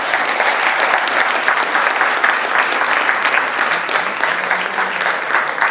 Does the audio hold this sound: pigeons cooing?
no